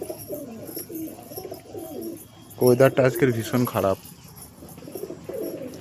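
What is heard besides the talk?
pigeons cooing in a home loft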